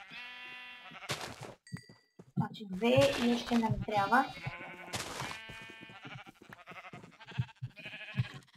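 Goats bleating in Minecraft, several short nasal bleats scattered through the scene amid clicks and game noises, with someone talking over much of it.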